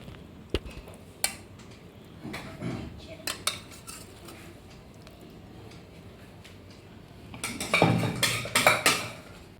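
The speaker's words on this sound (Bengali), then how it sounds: "লতিটা হয়ে গেছে, এবার আমি ঢেলে দিচ্ছি।" Kochur loti curry being emptied from the pan, with metal spoon scrapes, clinks and knocks against cookware scattered across a quiet kitchen, building to a louder cluster of clatter near the end.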